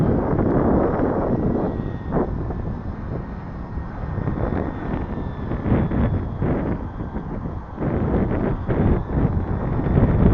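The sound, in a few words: wind blowing during an RC plane flight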